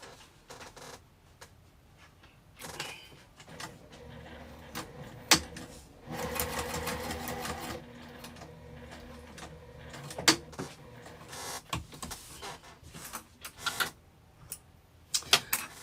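A sewing machine stitches a zipper pouch in short bursts of rapid whirring. A longer continuous run comes near the middle, and clicks and handling noises fill the pauses, all close and fairly quiet.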